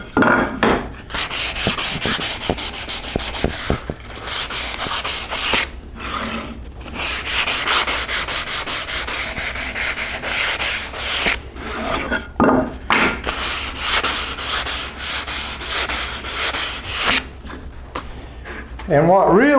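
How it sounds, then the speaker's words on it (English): Hand sanding along the edges of a wooden foot stool, with raspy back-and-forth rubbing strokes repeating close up in steady runs broken by brief pauses. "but they still need a little sanding on the edges."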